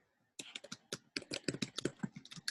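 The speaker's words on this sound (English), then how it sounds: "I hear typing." Fingers tap quickly on a computer keyboard nearby, a rapid irregular run of crisp clicks after a brief quiet start.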